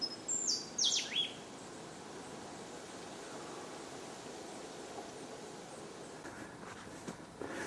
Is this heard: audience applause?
no